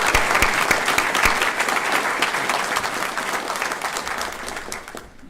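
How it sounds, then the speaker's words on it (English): Sustained applause fills a board meeting room to honor an officer's 80th birthday, steady and full before tapering off at the end. "I would ask that we also give a round of applause"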